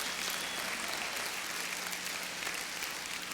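Church congregation applauding, a continuous, even wash of many hands clapping, somewhat distant and moderately quiet, with no speech over it.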